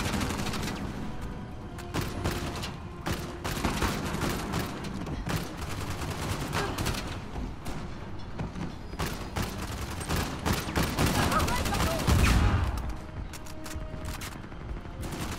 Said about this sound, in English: we gotta shoot people like this as well